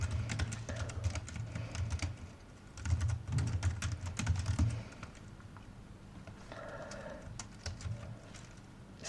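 Someone types code on a computer keyboard, a quiet, close, irregular clatter of keystrokes coming in bursts with short pauses between them.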